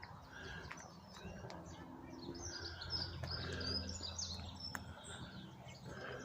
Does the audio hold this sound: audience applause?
no